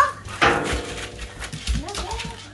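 A puppy gives close, high whimpers and short yips in several bursts, mixed with a human voice nearby.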